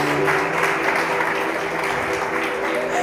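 A church congregation applauds steadily for a few seconds during a worship service, a dense wash of clapping with a faint voice and a sustained tone underneath.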